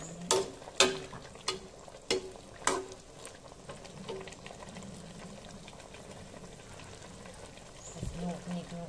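Chopped galangal and chilies squeezed together and dropped into a heated pot for a Thai Isan chicken and sour bamboo shoot curry, heard as a few sharp knocks and clatters followed by soft sizzling and stirring, close but quiet.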